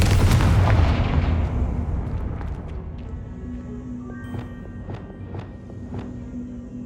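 A Confringo blasting spell goes off in Hogwarts Legacy as a loud booming explosion that rumbles and decays over a couple of seconds, followed by faint scattered thumps and tinkling debris.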